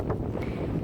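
Outdoor wind gusting straight into the microphone near hay bales and a stable, a constant loud low rumble that swamps everything else for the whole moment.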